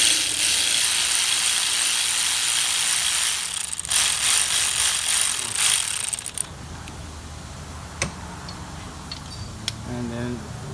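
A ratchet turning bolts while a starter is fitted on a Saturn 2.2L L-Series car, a dense clicking rasp that fills the first six seconds, then a few separate clanks and metallic taps.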